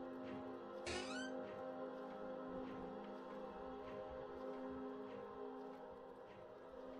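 A cat meows once, a brief rising cry early on in the horror game Close to the Sun, heard over a steady low ambient hum that continues afterward.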